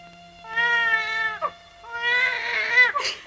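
A cat gives two long, drawn-out meows close by, each rising and then breaking off, with a brief pause between them and no talk.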